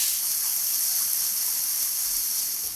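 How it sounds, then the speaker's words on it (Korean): Chopped onion and garlic sautéing in cooking oil in a pan over medium-low heat, a steady bright sizzling hiss that holds even and close throughout with no pauses. "양파와 마늘을 넣고 볶아주세요."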